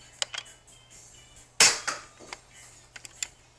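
A Nerf toy blaster fires once, a sharp loud snap and whoosh in the middle, set among scattered quieter clicks and handling taps in a quiet room.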